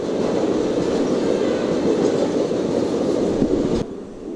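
A train passes nearby in dense fog with a loud, steady rolling rumble and faint wheel clatter, then the sound drops away abruptly near the end.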